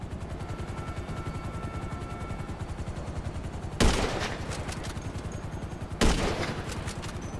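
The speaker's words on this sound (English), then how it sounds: "Are you shooting at me still?" Gunfire in the video game GTA Online: a fast, steady rattling pulse runs throughout, broken by two louder blasts near the end, with no talking.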